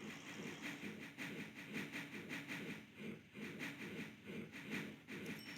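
A video game train runs steadily with a rhythmic clickety-clack over a continuous hissing rumble, fairly loud and alone.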